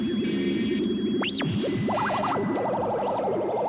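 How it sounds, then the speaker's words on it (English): Synthetic, warbling bird-like tones sweep up and down in pitch, swooping and trilling with a washed-out, reverberant electronic quality. "We've got some bird noises."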